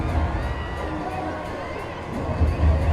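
A stadium crowd at a cricket match roars in sustained cheering after a boundary, a dense, steady wash of voices that swells slightly at the end, with a commentator speaking over it.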